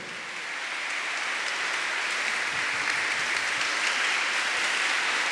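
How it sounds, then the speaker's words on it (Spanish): Dense, steady applause from a large audience at a Christian worship concert, a continuous wash of many hands that swells slightly and holds at full volume with no voices standing out. "un aplauso a Jesucristo"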